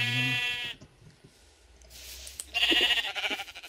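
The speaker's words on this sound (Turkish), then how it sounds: "Koyuna vurdum koyunlar geldi." Sheep bleat loudly in Minecraft in a short burst after one is hit, fall quiet, then several more bleats overlap in a noisy cluster near the end.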